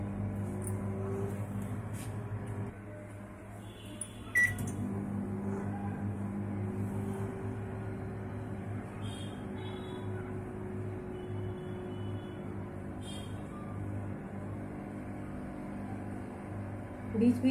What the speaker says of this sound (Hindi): और माइक्रोवेव को स्टार्ट कर देंगे।